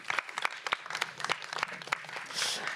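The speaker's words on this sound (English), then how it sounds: "a round of applause for him" A crowd applauding steadily for a few seconds, dense overlapping claps that swell slightly toward the end.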